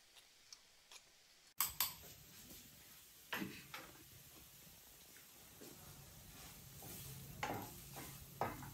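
A gooseberry and ground masala mixture hits a pan for gooseberry rice, starting with a sharp clatter, then a quiet low sizzle broken by intermittent scrapes and taps of stirring.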